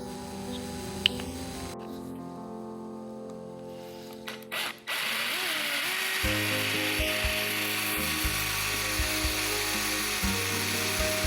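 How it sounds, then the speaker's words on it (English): A drill bores a smaller hole down the middle of a wooden dowel during restoration of an old Victorian Eastlake settee. Quiet handling noises come first, then a steady motor whir with rhythmic grinding pulses runs close and loud. "now I'll drill a smaller hole down in the middle of it"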